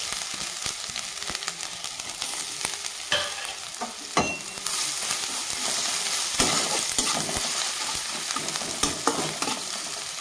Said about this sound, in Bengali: আদাটা আমি একটু হালকা ভেজে নেব